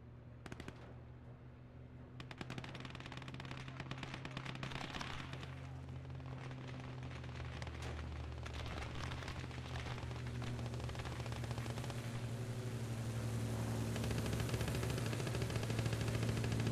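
Bombing run in the Eastern Front war game Gates of Hell: Ostfront, heard as dense, sustained rattling machine-gun fire mixed with crackling bursts and rumbling blasts over a steady low drone, building slightly toward the end.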